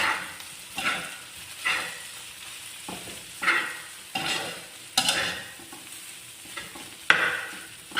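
Taiwanese-style fried rice mixed with egg white being stirred in a nonstick wok, repeated scraping strokes roughly every second over a steady sizzle, close and without talk.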